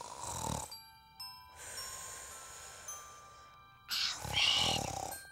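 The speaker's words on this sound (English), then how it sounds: "I'm not the one snoring." A cartoon character snores in a cabin, with loud rhythmic snore breaths separated by pauses and a few tinkling chime effects between them.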